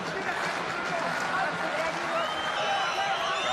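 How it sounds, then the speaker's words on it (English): A boxing crowd in Astana roars loudly and continuously, a dense wash of cheering and shouting with a commentator's voice running over it throughout. "Crowd getting loud here in Astana."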